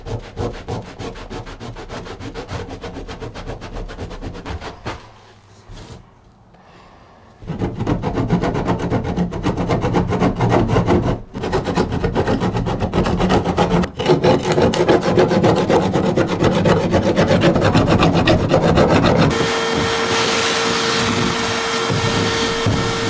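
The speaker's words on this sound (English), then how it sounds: "I'm gonna see how much I could get off with this chisel" Steel chisel scraping old adhesive off a subfloor during floor prep, a steady loud rasping, rubbing scrape with short pauses, close up and alone with no voices.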